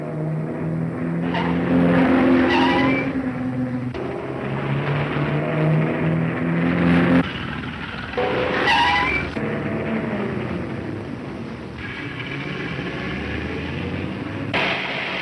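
Car racing along in a chase, loud engine roar with repeated tire squeals and skids as it swerves, bursts of revving rising and falling over about fifteen seconds, close and intense with no talk.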